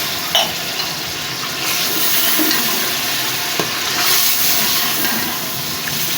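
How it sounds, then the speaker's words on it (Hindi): Water pours and splashes into a hot pot of fried chicken and spices for pulao, hissing and steaming over a steady sizzle, with a couple of utensil knocks. "अब थोड़ा सा पानी शामिल कर देते हैं"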